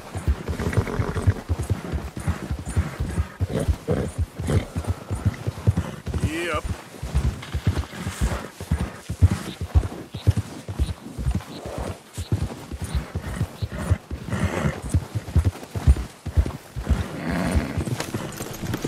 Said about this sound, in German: So, das Pferd ist nervös geworden.